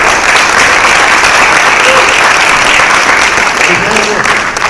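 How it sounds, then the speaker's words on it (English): Applause for an inaugural class at a 2018 WBF Dubai event: a loud, dense burst of crowd clapping that stays steady for several seconds. "let's give a big round of applause for WANLab's first inaugural class"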